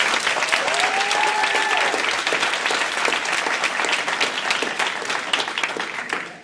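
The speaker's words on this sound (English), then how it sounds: "Let's give another round of applause" A school board meeting audience gives a round of applause, dense, steady clapping that stays loud and even for the whole stretch, with a faint voice briefly audible underneath.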